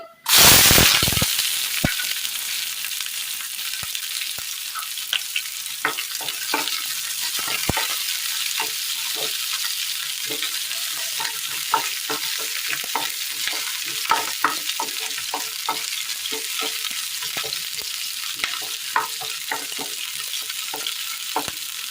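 Chopped shallots hit hot oil where mustard seeds have already popped for a Kerala curry. A loud burst of sizzle comes first, then a continuous close frying hiss broken by frequent crackles and pops as they are stirred.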